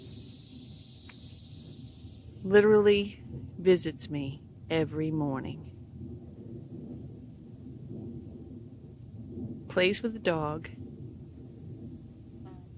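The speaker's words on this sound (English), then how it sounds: "Then I realized it's a cicada." Steady high insect buzz from a cicada close by, continuous through the clip, while a person talks over it in short bursts.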